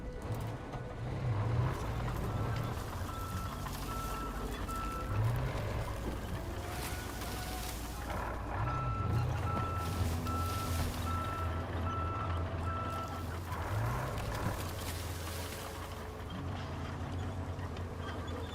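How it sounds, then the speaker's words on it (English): Reversing beeps from a stump grinder vehicle in the video game Roadcraft, a regular repeating series of tones over a low engine rumble, continuing steadily throughout. "next step, we'll jump in the stump grinder"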